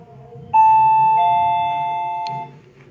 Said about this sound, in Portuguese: a campainha tá para tocar